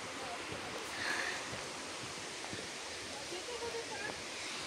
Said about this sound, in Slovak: Sme práve pri vodopádoch.